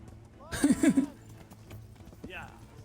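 Horse hooves clip-clopping in the medieval video game Kingdom Come: Deliverance, a short burst of several close hoofbeats followed by a fainter pair of steps, with light background sound.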